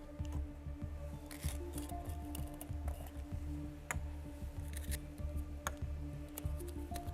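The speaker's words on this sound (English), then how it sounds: "You have to shuffle these 6 balls" Six plastic lottery balls rattle and clack against each other as they are shuffled in a draw pot at a football competition draw ceremony, a steady close clatter with sharp ticks and no talk.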